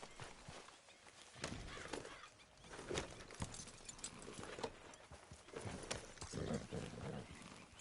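Steady clip-clop of horse hooves in a game, moderately loud, with irregular thumps and rustling layered over the rhythmic steps.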